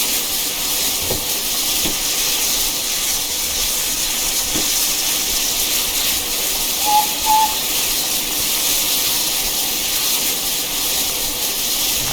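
Steady, loud steam hiss from a GWR Pannier 0-6-0T tank locomotive in Train Simulator, a constant broad rush with a few faint clanks and a brief whistle-like tone midway.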